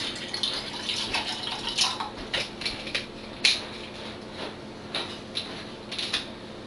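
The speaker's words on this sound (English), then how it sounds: "And so I'll just continue pouring here." Bottled water, Ice Mountain then Smart Water, poured into a container in a series of soft, splashy trickling bursts, faint and close, with no talking.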